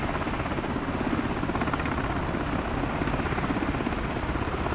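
A helicopter in a flight simulator game has rotors beating in a steady, loud, rapid chop that holds unchanged throughout, with a dense engine whine underneath.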